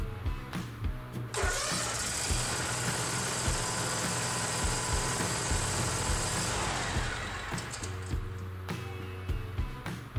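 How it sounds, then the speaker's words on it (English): A Bobcat zero-turn mower engine cranks over and catches, then settles into a steady, fairly loud idle that runs alone until it cuts off near the end. "Confirm the PTO switch or mower blades are off and start the engine."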